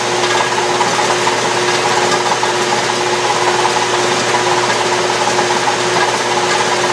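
A metal lathe takes a second pass across the periphery of a flywheel with a vertical shear tool, making a steady, loud, continuous machine hum and cutting whir, close by and unbroken, with no talk.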